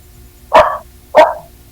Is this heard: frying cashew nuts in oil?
no